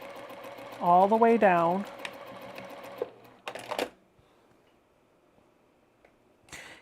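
A sewing machine stitches a quilt block seam in a brief whirring burst of rapid needle clatter, then stops, followed by a few clicks while someone speaks.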